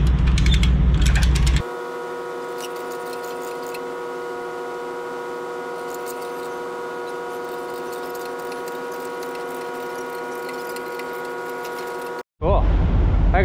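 A come-along winch ratchets with a steady, evenly pitched mechanical whir and clicking that holds for about ten seconds, close and fairly loud, bracketed by brief noisy handling at the start and end.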